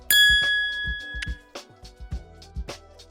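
A YouTube new-video notification chime opens with a bright, ringing ding, followed by a second ding and a short run of soft plucked tones, loud and close with no talk.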